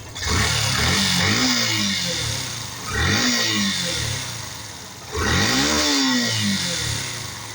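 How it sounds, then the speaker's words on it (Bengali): A fuel-injected Yamaha FZ V2 motorcycle with a cam fault disturbing its engine sound revs hard three times, each burst climbing in pitch and then easing back to a rough idle, loud and close. "এই যে গাড়িটার সাউন্ড শোনেন"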